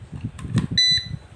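Timer of a carwash vending machine beeping as its wiring is plugged in and it powers on: one short electronic chirp, then a steady, loud beep of about a quarter second, close up over low room hum.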